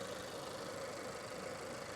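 A 2016 Renault Scenic 1.2-litre engine idles steadily and quietly, a low continuous hum with faint mechanical rattle.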